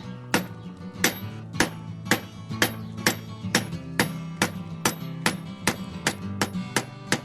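A hammer forges hot steel on an anvil to draw out a camp knife. About fifteen ringing strikes land in a steady rhythm, close and loud, each with a metallic clang and a short ring.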